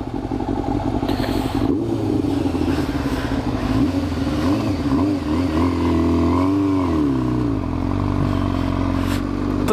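A motorcycle rides on a road in cold weather, the engine held at a steady loud drone with rising and falling pitch as it pulls away and gathers speed. It is close to the rider, with wind noise throughout.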